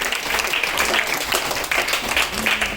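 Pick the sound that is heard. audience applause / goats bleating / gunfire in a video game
audience applause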